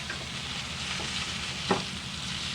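Flour sizzles and fries steadily in a hot pan for a sauce, sticking slightly to the bottom, with a few soft scraping stirs breaking through the continuous close crackle.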